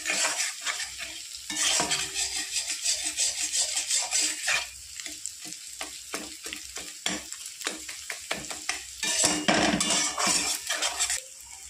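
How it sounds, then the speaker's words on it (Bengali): Egg is scrambled and lightly fried in a pan, a close sizzle with brisk, repeated scraping and clattering of a utensil against the pan, busy bursts pausing briefly midway. "আমি ডিমটা হালকা করে ঝুরি করে ভেজে নেব"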